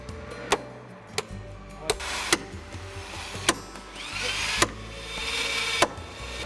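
Holes are drilled through wooden planks into the frames of the schooner Bluenose II, with a power tool whirring and several sharp, evenly spaced knocks ringing out over steady workshop noise.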